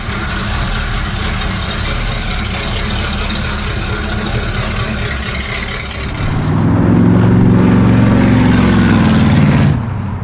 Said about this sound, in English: I just like the lopiness of the engine